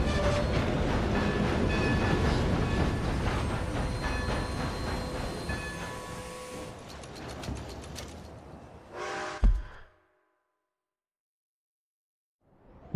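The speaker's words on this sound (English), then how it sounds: "Taking a train into the big city." A train rolling into the city in Red Dead Redemption 2, a steady rumble of wheels and carriages that fades gradually, then a sharp clank and brief hiss before near silence.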